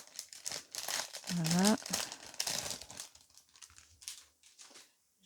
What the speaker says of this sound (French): hop, j'ai enlevé directement les enveloppes